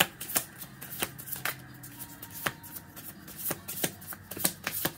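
A deck of tarot cards being shuffled for a reading: crisp riffling and snapping card sounds in irregular bursts over about five seconds, close-up and fairly quiet, with no talking.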